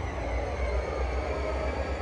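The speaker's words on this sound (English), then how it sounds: "We are in Rio Grande locomotive today, SD40T." A Rio Grande SD40T diesel locomotive in Train Simulator 2015 gives a steady low engine rumble with a broad rail roar, constant and close throughout.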